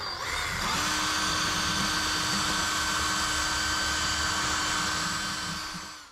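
A power drill bores continuously during a home DIY job, spinning up after a short pause and holding a steady high whine for several seconds before winding down, with no one speaking.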